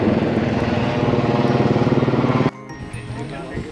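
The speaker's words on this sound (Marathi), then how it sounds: "सध्या इथं महोत्सव असल्यामुळं विमान हेलिकॉप्टर येत आहे." A propeller aircraft or helicopter flying over the Vitthala temple in Hampi during a festival, a loud steady throbbing drone that cuts off abruptly, leaving quieter outdoor ambience.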